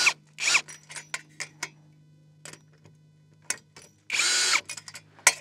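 A power drill tightens fasteners on a Unistrut solar panel mount, giving several short close bursts of whirring, with a longer final burst, amid quiet gaps, clicks and light handling noise.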